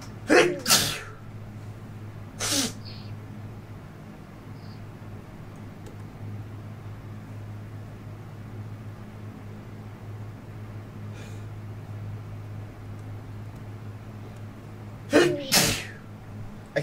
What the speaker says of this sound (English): I can't stop sneezing either.